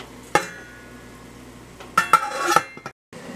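A lid goes onto a pot of rhubarb about to boil for juice, making a sharp metallic clank, then a cluster of ringing clinks and scrapes as it settles, close and fairly loud.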